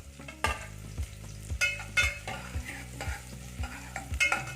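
Onions and curry leaves sautéing in a pan for a no-coconut buttermilk curry, a constant sizzle broken by repeated sharp scrapes and clinks of a spatula stirring, close and alone.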